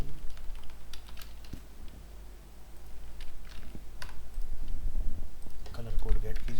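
Keystrokes on a computer keyboard while entering a background color in web page code, a run of quick irregular clicks sitting under low room noise, with a brief pause and denser bursts toward the end.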